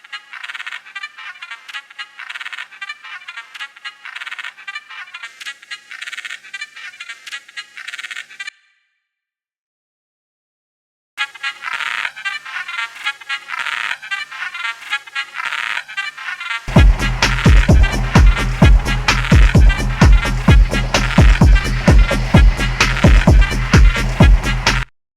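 Techno sound design built from looped markers that speed up and slow down, with stereo widening. Stuttering, glitchy high chopped tones come first, then a short silence, then a denser section where a heavy, pounding low beat joins in.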